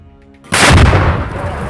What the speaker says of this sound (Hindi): इसके बीच हरियाली के बीच छिपकर अल-कुद्स का एक और लड़ाका दनादन रॉकेट दागने लगता है।